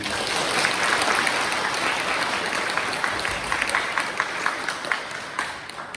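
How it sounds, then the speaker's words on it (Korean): A church congregation at a farewell ceremony for a departing priest breaks into dense, sustained applause, a broad even roar of many hands lasting throughout and tapering slightly at the end. "정보위원회에 큰 박수 한번 부탁드립니다"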